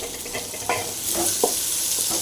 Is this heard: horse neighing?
no